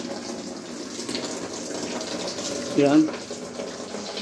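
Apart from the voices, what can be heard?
tap water running into a basin for laundry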